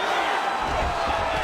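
A dense arena crowd roars and cheers steadily at a UFC 5 video game fight, a continuous loud wash of voices with no clear breaks.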